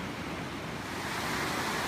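Water flows down a series of waterfalls along a hiking trail, making a soft, steady rushing hiss that stays faint and continuous for a brief moment.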